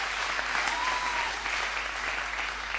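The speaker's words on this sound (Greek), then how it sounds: "ένα χειροκρότημα ρε παιδιά στο γραφείο" An audience at a Greek comedy stage show claps in a dense, even burst of applause, sustained and fairly loud throughout with no pauses.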